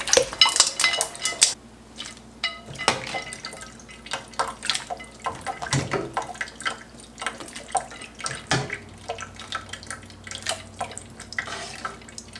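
Pots and utensils clatter and knock in a kitchen while blanching beans, water splashing and running, with irregular close clinks and no speech.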